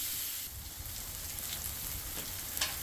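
Chicken thighs coated in BBQ sauce sizzle steadily on a griddle, a faint, even crackling hiss with scattered pops and no talking.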